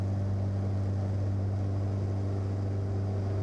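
A small training plane flying just after takeoff, heard as a loud, steady engine drone with a strong low hum that holds constant and close throughout, with no talk over it.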